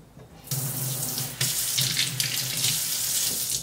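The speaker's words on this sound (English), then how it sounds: "We're just going to pour our hot water into that channel, and we're just going to alternate back and forth." A tap runs in a steady stream while hot water from a kettle splashes over the score line of a glass wine bottle, close and continuous.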